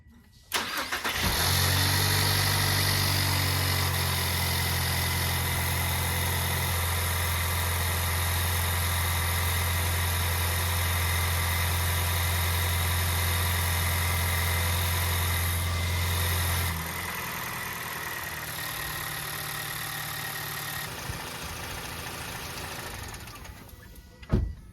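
Engine of a 2024 Toyota Tacoma TRD Offroad starts, then idles at a steady, even hum for over twenty seconds. The pitch drops slightly partway through, with a brief click at the very end.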